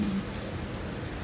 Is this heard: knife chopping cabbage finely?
no